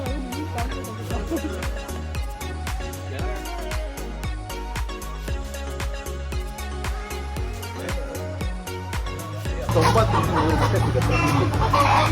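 Kaveri Nati country chickens on an organic farm cluck repeatedly in short bursts, with people talking and murmuring nearby throughout.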